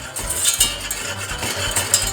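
A utensil scrapes and clinks around a pot in quick, continuous stirring strokes through dry ingredients including walnuts and cinnamon, close and fairly loud, with no talking.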